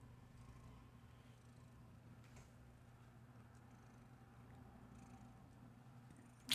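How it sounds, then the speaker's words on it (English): A soft, steady cat purr rumbles low and continuous throughout, faint and close, with a brief louder bump at the very end. "Are you purring into the microphone?"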